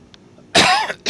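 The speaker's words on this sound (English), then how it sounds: "I do apologize for coughing in your ear" A single sharp cough bursts out close to the microphone, followed by a short second huff, against a quiet background.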